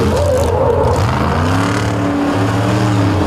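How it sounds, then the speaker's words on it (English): An off-road race vehicle at the Indy Jamboree spins and smokes its tires on asphalt, a loud continuous engine roar with shifting revs and a harsh broadband tire hiss throughout. "Smoking the tires out here on the asphalt."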